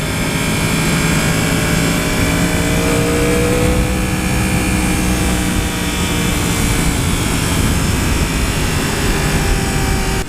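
A 2015 Yamaha R1 engine pulls under power, a loud, continuous droning roar with slowly shifting pitch and heavy wind rush, no breaks.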